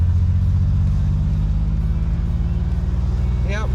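A fuel-injected BMW 733i engine hums steadily while driving, a loud, continuous low rumble with a brief rising whine near the end.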